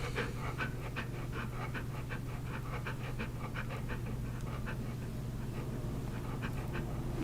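A dog pants in steady, rapid rhythm close by, the quick breaths repeating throughout over a constant low hum, with no talk.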